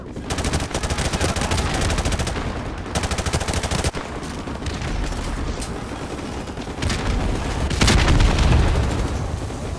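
Sustained machine gun fire from a tank-mounted gun in the Call of Duty Modern Warfare campaign, rapid loud bursts with booming impacts and occasional explosions, nearly continuous with brief gaps, no talking.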